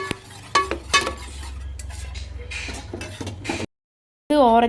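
Metal utensil scraping and stirring biryani in a pot, with a few sharp clanks near the start, then a short silence before other sound resumes.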